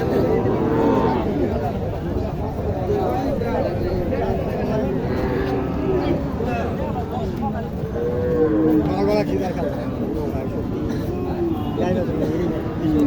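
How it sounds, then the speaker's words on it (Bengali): Cattle at a village livestock market in Naogaon district, Bangladesh, where young heifers are for sale, low under a steady hubbub of crowd chatter and close talking voices. "যতটুকু সম্ভব চেষ্টা করতেছি আপনাদেরকে গরুগুলো দেখানোর ছোটো ছোটো বখনাগুলো"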